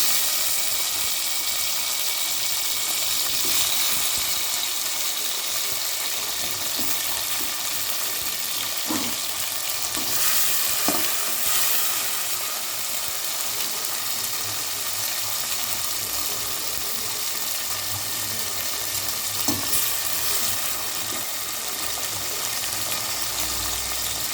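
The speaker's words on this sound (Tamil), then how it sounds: "இப்போ வந்து தக்காளி போட்டுடலாம்" Steady sizzling and crackling of tomatoes frying in a hot pan, with occasional soft clinks, continuous and fairly close throughout.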